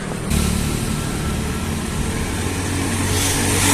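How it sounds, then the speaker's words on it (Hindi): Motorcycles pass along a morning street in India, a steady engine drone and traffic rumble, fairly loud and close, swelling slightly as vehicles go by, with no one talking. "घर घर जा रही हैं मोटरसाइकिलें"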